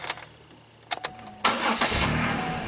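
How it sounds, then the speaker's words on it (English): A car engine cranks in a few quick bursts, then catches and settles into a steady running rumble, heard fairly quiet and close with no speech. "So, let's start the car up."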